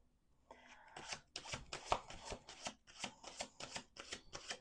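Tarot cards shuffled by hand in a quiet room, a brief soft start followed by a quick run of crisp riffling bursts in an uneven rhythm, close and alone.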